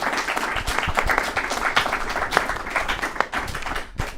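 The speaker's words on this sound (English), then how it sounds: "I want to give our speakers a huge round of applause." Audience applause at the close of a creation versus atheism debate, dense steady clapping from a room crowd that carries on for several seconds before tapering off.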